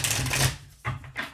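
Tarot cards being shuffled by hand, a close, dry riffling flutter followed by two short slaps as the deck settles, with no voices.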